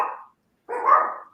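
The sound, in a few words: dogs barking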